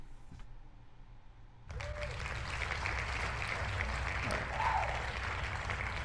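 Applause starts suddenly after a quiet moment and continues as steady, dense clapping at moderate volume, with a few faint voices mixed in underneath.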